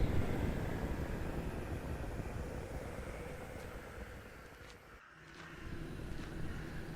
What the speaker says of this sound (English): That's wind again.